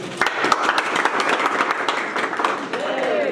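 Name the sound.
audience applause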